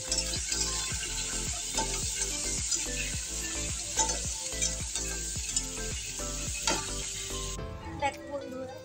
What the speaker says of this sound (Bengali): পেঁয়াজ কুচি আর টমেটো কুচি দিয়ে এগুলো ভালো করে